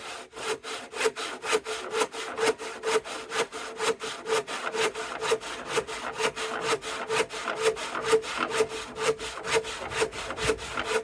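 A hand rip saw cuts wood with steady rhythmic strokes, each downstroke giving a loud rasp, repeating evenly for several seconds with no voices.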